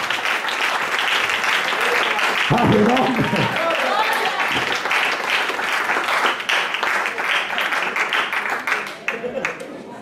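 A church congregation claps in praise to God, sustained rhythmic applause from many hands filling the room, with voices calling out over it before it thins toward the end.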